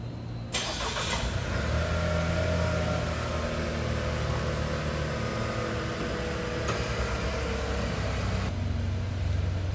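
A 2022 Chevrolet Trailblazer ACTIV starts by remote start: a short crank catches into a steady idle hum, close and moderately loud, with brief clicks near the start and end.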